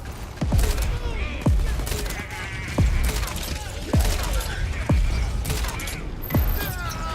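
Repeated gunshots from the video game Crackdown 3, sharp loud cracks roughly every second over a busy, rumbling game soundscape, with a voice talking briefly.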